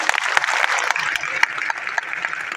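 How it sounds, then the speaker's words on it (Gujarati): Brief burst of audience applause at a business gathering, dense close clapping running under a voice speaking. "એમની માટે એકવાર જોરદાર તાળી"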